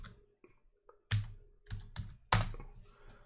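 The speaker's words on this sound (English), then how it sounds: "It really helps when you're using the right keyboard again." Someone types on a computer keyboard while shopping online, producing a run of irregular clicks and heavier key thunks. The keystrokes are close and moderately loud, and there is no speech.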